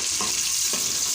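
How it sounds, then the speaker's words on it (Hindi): Onions frying lightly in a pan for chicken yakhni pulao give a steady, close hiss with a couple of soft stirring scrapes, alone and without talk. "प्याज को हल्का सा फ्राई करना है और डार्क ब्राउन नहीं करना है"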